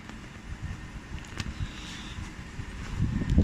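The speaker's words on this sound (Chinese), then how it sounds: "风扇呼呼转，没毛病。" Outdoor unit of a fixed-speed 1.5 HP air conditioner, with its compressor apparently not running, makes a steady whooshing fan whir and low rumble, close by and building slightly louder toward the end.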